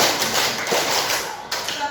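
Sixth-grade students in a classroom clap hands in a counted clapping game, scattered sharp taps over steady room noise.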